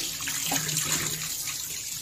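Tap water runs into a kitchen sink as raw chicken is rinsed under it, a steady close gushing stream with faint splashing shifts. No one speaks.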